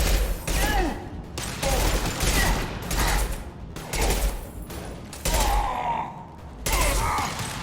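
Rapid gunfire from a firefight in the video game Mass Effect 2, loud bursts of shots in several clusters separated by brief pauses, with voices and combat effects mixed in.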